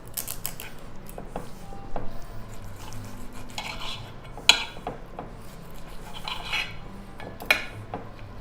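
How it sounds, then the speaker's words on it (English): A knife cutting into a cooked T-bone steak on a plate, with soft sawing rubs and sharp clinks of metal against the dish, scattered irregularly and close. "Cutting into the steak."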